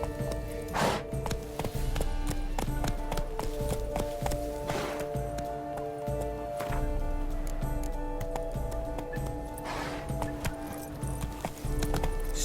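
Horse hooves clip-clop at a steady, even trot as a rider travels through large gardens in The Witcher 3: Blood and Wine, a clear rhythmic clatter that continues throughout under faint background ambience.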